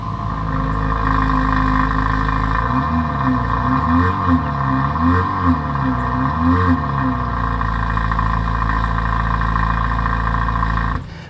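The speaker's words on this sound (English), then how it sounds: "when the engine starts, it actually makes some pretty cool noise" A 2024 Dodge Hornet R/T plug-in hybrid engine idles with a steady low rumble, its pitch wavering slightly in a few soft swells before settling back to a constant hum.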